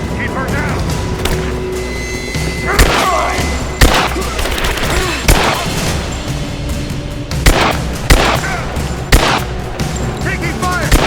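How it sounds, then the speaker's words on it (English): Gunfire in the Rise of the Tomb Raider video game: sharp shots and bursts cracking at irregular intervals over a rumbling game soundscape, with voices talking throughout. "Taking fire!"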